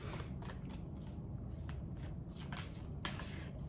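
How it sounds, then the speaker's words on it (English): A deck of tarot cards is shuffled by hand in a rapid series of riffling, flicking bursts at close range, over a low steady background hum. "That's too many cards coming out."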